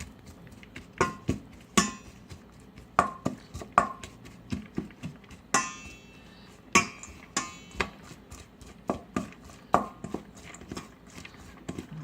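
Macaroni salad being mixed in a bowl, heard as repeated sharp knocks and clacks of a utensil against the bowl in an uneven rhythm, close and fairly loud with no talking.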